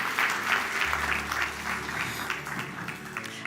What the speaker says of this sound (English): Let's give him a warm round of applause as we close.